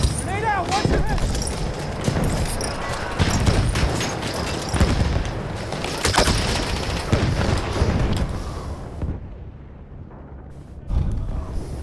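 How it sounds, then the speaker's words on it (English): Grenade and gunfire blasts in Battlefield 1 boom loudly in a dense wartime battle mix of rumbling explosions and rattling shots, with game voices shouting over the chaos and a brief drop toward quiet near the end. "Lobbing grenade! Grenade out!"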